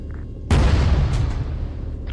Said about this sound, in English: Hearing some other distant explosions, not sure where they are.